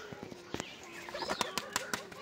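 Pigeons in a battered home coop, with several sharp bursts of wing flapping close by, scattered across a couple of seconds amid soft rustling and faint cooing.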